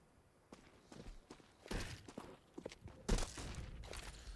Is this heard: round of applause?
no